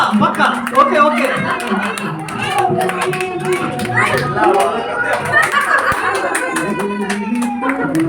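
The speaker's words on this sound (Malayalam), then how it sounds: "ഒന്ന് കൈയടിച്ചു കൊടുത്തേ" Audience clapping at an LIC Neyyattinkara branch Onam celebration in Kerala, a loud steady patter of hands with crowd chatter and voices over it throughout.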